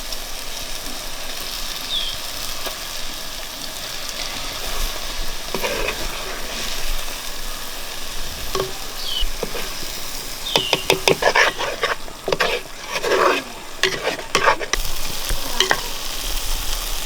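Eggs stirred and frying in a Kerala egg roast masala with curry leaves and ground fennel, a steady close sizzle broken by sharp spoon-scraping knocks against the pan, busier toward the end.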